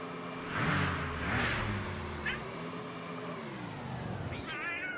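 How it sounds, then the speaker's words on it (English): Several drawn-out cat meows from a game character rise and waver up front over a low engine-like rumble and whooshing, with a short chirp mid-clip and a wavering cry near the end. "Who messing with a cat?"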